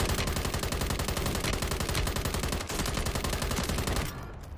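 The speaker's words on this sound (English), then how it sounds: "Where are you shooting at?" Rapid automatic gunfire from the Call of Duty Warzone video game, a dense continuous rattle of shots for about four seconds before cutting off, with no talking.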